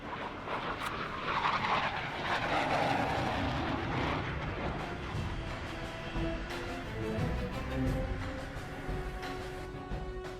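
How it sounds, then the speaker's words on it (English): An F-18 jet landing aboard an aircraft carrier gives off a heavy, continuous roar that swells early and holds steady at a loud level. "these F-18 pilots can't rest until they bring their aircraft safely to a stop"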